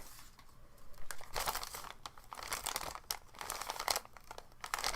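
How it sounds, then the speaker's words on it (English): Paper is crumpled and crinkled close to the mic in ASMR style, producing dense, loud crackling bursts that swell and ebb continuously for the full stretch, with no talking. "ASMR paper."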